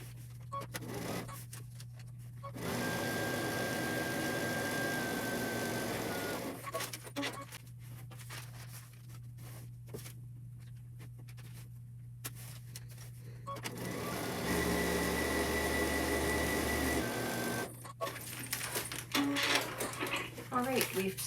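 A sewing machine stitching quilt pieces, its steady motor hum running in two long bursts of several seconds each, separated by quieter stretches where a person talks.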